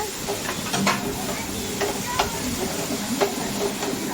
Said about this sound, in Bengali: এবার এর সঙ্গে ভালো করে একটু ভেজে নেব চিংড়িটাকে।